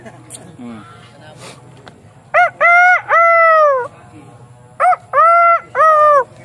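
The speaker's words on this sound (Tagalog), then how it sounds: "Tumitilaok pa, oh." A rooster crows loudly twice, each a drawn-out multi-part call, after a stretch of quiet background murmur and faint voices.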